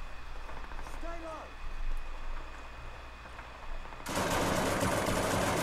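MP40 machine pistol in a Call of Duty World War II game: a loud sustained burst of rapid automatic fire cuts in near the end, after quieter battle ambience with brief voices.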